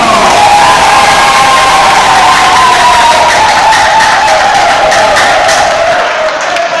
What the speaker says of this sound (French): nous allons applaudir le frère Ilson Taylor